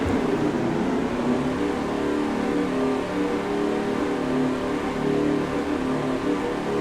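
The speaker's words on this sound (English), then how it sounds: "The cars are ready to roll. Let's get stage 1 started." NASCAR stock cars rolling off to start a race at Daytona in a racing video game, a loud continuous engine drone from the pack humming steadily with no talk over it.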